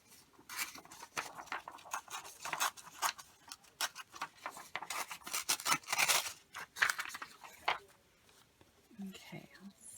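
Scissors snipping matte paper for ephemera crafts, a close series of crisp rhythmic cuts in quick succession, with soft whispered talk running over and after them.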